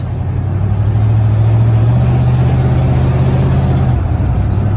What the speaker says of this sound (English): You can hear the intake noises.